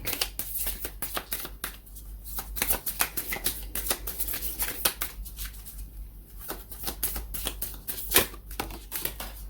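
A tarot card deck being shuffled close by, with rapid riffling flutters and card slaps repeating unevenly throughout. There is a faint low hum underneath.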